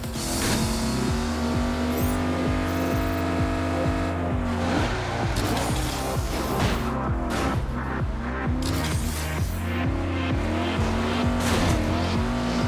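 Race cars in the video game Agents of Mayhem roar continuously, with revving engines shifting pitch, tires squealing and skidding, close and loud throughout.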